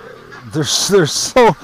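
Ducks being herded toward a barn with fresh straw give a few short, honking quacks in quick succession, close and fairly loud.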